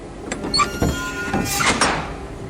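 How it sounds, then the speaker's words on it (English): A dark, unmarked train's single door slides open with a soft mechanical whoosh and rattle, fairly close, alone in a quiet setting with no voices. "just one door, which opened for me"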